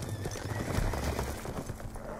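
Horse hooves clip-clopping with occasional neighs and whinnies in the Black Ops 2 campaign, a steady low trotting rhythm at moderate level under continuous game ambience.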